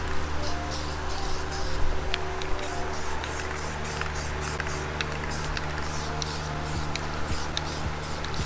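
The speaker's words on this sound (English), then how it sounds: "I just use cheap old Walmart 96 cents a can spray paint, flat black." A cheap aerosol can of flat black spray paint lays down a guide coat during a Nissan 350Z rebuild, giving repeated short hissing bursts in a quick, fairly even rhythm over a low background hum.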